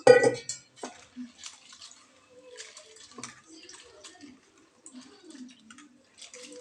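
An ingredient washed by hand in a little water, with soft sloshing, dripping and light splashes, an initial louder splash then quiet intermittent water movement, close and without talk.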